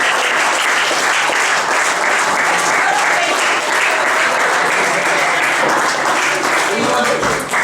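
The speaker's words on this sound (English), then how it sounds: "So we have a cheers and a round of applause for them." At a running club's 2011 awards night, a crowd applauds loudly and continuously, a thick wash of clapping and some cheering held at full strength throughout.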